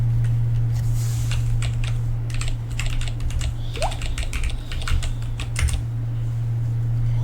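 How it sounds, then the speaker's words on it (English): Keystrokes on a computer keyboard tap out in quick irregular bursts over a steady low electrical hum, close and fairly loud, with no talking. "Then type the miner position, then type cryptocurrency"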